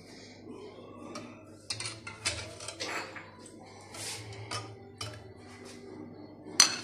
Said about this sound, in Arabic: انا حنقدمه امامكم في طبق التقديم